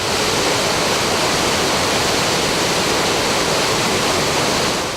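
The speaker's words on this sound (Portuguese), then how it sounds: "Mas em um ponto específico do reservatório, a calmaria dá lugar à força da água." Water rushing over a reservoir spillway in Paraíba, a dense, loud continuous roar that holds steady and close with no voices.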